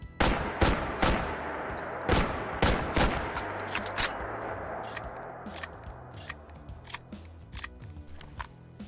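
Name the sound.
Remington Model 11 shotgun firing and reloading, Fallout 4 video game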